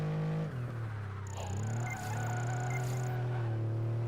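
A racing car engine in Project Gotham Racing 4, a Porsche, drones steadily, dipping and then rising in pitch, with a thin high whine riding above the continuous rumble, driving in the rain.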